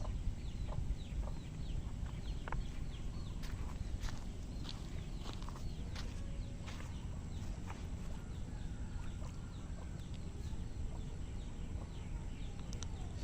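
Chickens cluck faintly and intermittently around a garden plot, short scattered calls over a steady low rumble of background noise, with occasional light footstep-like taps.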